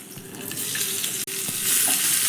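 Chopped tomato, garlic cloves and curry leaves frying in a pan while being stirred, a loud continuous sizzle with a brief gap midway, then swelling brighter toward the end.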